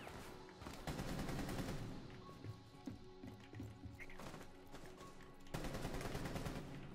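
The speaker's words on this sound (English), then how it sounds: "Just start firing wildly either side of it." Bursts of rapid automatic gunfire from a video game, loud dense volleys at the start and again near the end with scattered shots in between.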